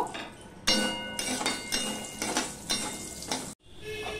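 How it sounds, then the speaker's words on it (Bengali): Bori, small lentil dumplings, fry in white oil with a continuous sizzle, punctuated by scraping stirs and clinks of a utensil against the pan, close and steady with no talk. "এবার বড়িগুলো দেখো, আমি বড়ি নিয়েছি, বড়িগুলো ভেজে নেব।"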